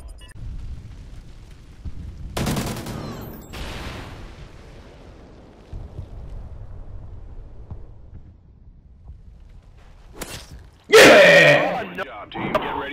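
Shots and booming blasts in a competitive first-person shooter match ring out in a couple of sharp bursts, the loudest late on, while players talk over the action.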